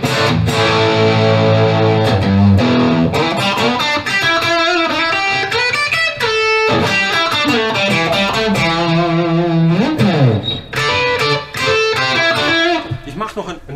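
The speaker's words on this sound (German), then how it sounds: "Deswegen gehe ich jetzt gleich mal auf einen Marshall Amp hier." Distorted electric guitar played through a Plexi Marshall amp, loud and continuous with sustained chords and riffs across the whole stretch, no voice over it.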